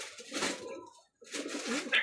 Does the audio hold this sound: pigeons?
yes